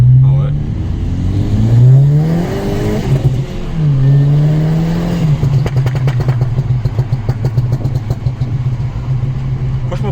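Volkswagen Golf 6 GTI with a stage 1 tune, its engine droning low and then climbing through loud revs with a rising pitch sweep, ending in a fast rattling pulse as the revs hold high; voices speak over the engine.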